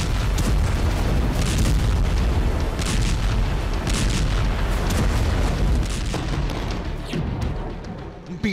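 Explosions from bombardment in Israel, a dense, continuous roar of heavy booms and rumbling blasts, loud and distorted, easing slightly toward the end.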